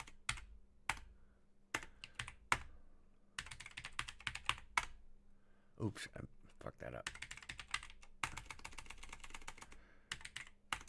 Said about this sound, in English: I'm typing underneath this microphone and typing above